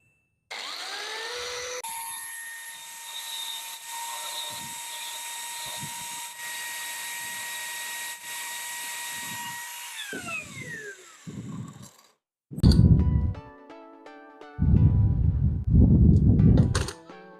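A small motor salvaged from a used toy car spins at a high whine while a grinder works its shaft, giving several short harsh grinding bursts over the steady tone before louder rough grinding near the end.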